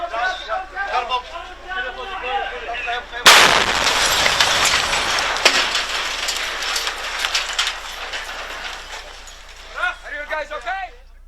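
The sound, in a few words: explosion in filmed street combat footage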